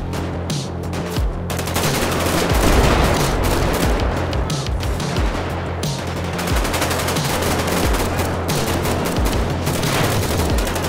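Dense gunfire and rocket-launcher blasts in a GTA 5 zombie survival match, a loud, unbroken barrage of rapid automatic bursts that runs the whole time with no voices.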